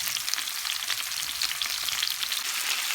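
Sea bass sizzling in hot oil in a pan, a dense crackling fry with fine spattering pops, steady and close with no voices.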